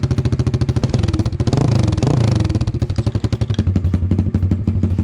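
A Peugeot 103 moped fitted with a motorcycle engine and no exhaust baffle runs loud and raw close by, a rapid popping putter that revs up briefly before settling back to a throbbing idle.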